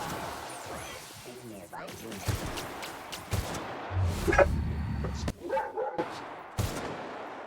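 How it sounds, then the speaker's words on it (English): A dog barks several times in short bursts amid loud gunfire from the video game The Outer Worlds, with a person talking over it. "Sorry about the dog barking."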